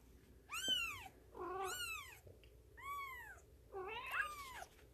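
A mother cat calls out to her newborn kittens with four drawn-out, rising and falling meows spread over a few seconds, fairly quiet and close, with no voices.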